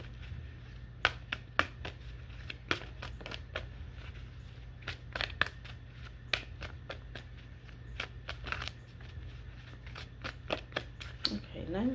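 Playing cards are shuffled in quick, crisp bursts of riffling and snapping, repeated irregularly over a low steady hum.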